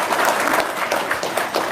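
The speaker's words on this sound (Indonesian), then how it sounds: "Wow, tepuk tangan dong, luar biasa." A small audience claps together in a steady, moderately loud burst of applause at a testimonial gathering, with no voices clearly heard over it.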